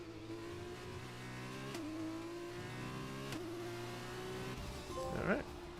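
Formula 2 race car in F1 2021 racing game, engine droning steadily with harmonic revs that dip briefly at gear shifts, loud and continuous, a short squeal-like burst near the end.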